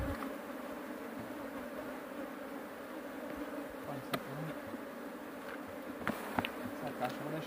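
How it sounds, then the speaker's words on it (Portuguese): Honeybees swarm and buzz around apiary hive boxes in a steady, dense drone that holds throughout, with a few sharp knocks and handling sounds standing out near the end. "Muita abelha, né?"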